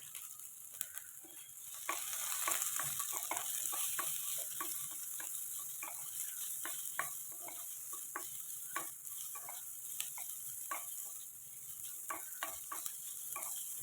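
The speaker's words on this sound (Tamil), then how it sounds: "இதையும் வேக விடாமல் 1 நிமிஷம் வதங்கினா போதும்" Capsicum and carrot strips being sautéed for vegetable noodles, a continuous bright sizzle broken by frequent quick ticks and clacks of a spatula stirring against the pan.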